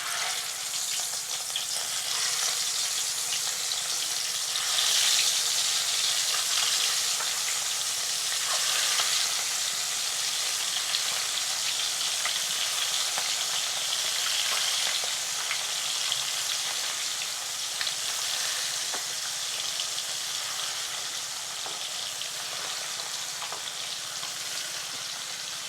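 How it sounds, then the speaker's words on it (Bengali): Shing catfish fry in hot salted oil in a pan, a loud continuous sizzle with crackling spatters and occasional stirring that runs unbroken at close range, without speech. "এখন আমি শিং মাছগুলো কড়াইয়ে দিয়ে দেব।"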